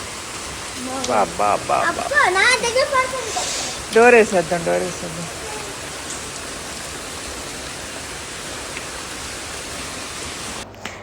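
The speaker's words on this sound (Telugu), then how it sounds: "చూడు ఎలా పడుతుందో వాన" Constant rain pours down in a dense, even wash of noise while people talk over it for the first half.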